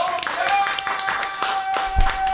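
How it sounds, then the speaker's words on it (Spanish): Audience clapping and applause at a lively show honoring Colombian guests, scattered sharp claps rising and falling under a voice speaking, with a low thump near the end. "Un aplauso para los colombianos"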